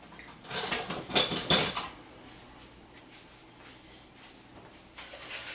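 Cookware and utensils clatter and clink together while someone rummages for a small whisk, a busy burst of metallic knocks in the first two seconds, quieter shuffling after, and another clatter near the end.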